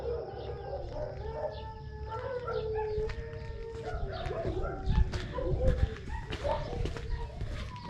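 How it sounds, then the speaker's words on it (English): Dogs bark and howl at a rural spot in Portugal, several overlapping calls at mid distance, some drawn-out and wailing, with birds and outdoor noise in the background. "The dogs notice that my voice is not familiar, so they bark."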